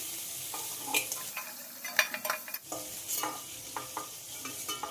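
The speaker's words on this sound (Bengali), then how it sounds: "বেশি কড়া করে ভাজলে চিংড়ি মাছের টেস্টটা নষ্ট হয়ে যাবে।" Shrimp fry in a pan, giving a soft, continuous sizzle broken by repeated scraping and clinking strokes of a stirring spatula, close and moderately quiet.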